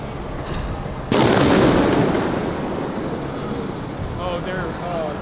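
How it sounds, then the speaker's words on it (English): A sudden loud blast of shots or explosions fired from above during a protest, followed by a dense roaring crowd din with whistles and faint shouting. "they're shooting from above, I think, again"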